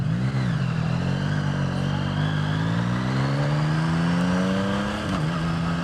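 A 2023 Yamaha XSR 900 motorcycle engine hums steadily while riding, its pitch rising smoothly as the bike accelerates and dipping briefly near the end, with constant wind rush and no talking.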